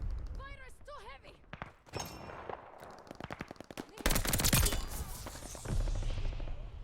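Heavy automatic gunfire in the Call of Duty Vanguard shooter game, dense rattling bursts and single shots mixing into a loud sustained barrage, with chirpy in-game sound effects early on.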